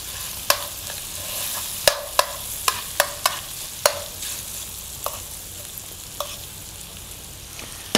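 Salmon and zucchini fry steadily in a pan, a continuous sizzle broken by about a dozen sharp scraping clicks as the spoon stirs and taps the pan, close up with no talking.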